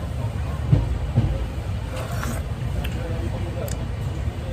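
Inside a moving passenger train from Guwahati to Howrah, a constant rumble of wheels on rails fills the carriage, with a few faint clicks and thuds and some background voices.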